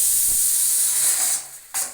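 A steady hiss of steam and bubbling from a pot of mutton curry boiling up close, cutting briefly near the end before resuming.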